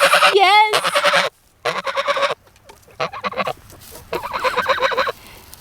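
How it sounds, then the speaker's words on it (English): A pet goose in a farm field honks loudly and repeatedly up close in short bursts and brief pauses, with talk heard between the calls. "So Goose is sweet as ever and as talkative as ever"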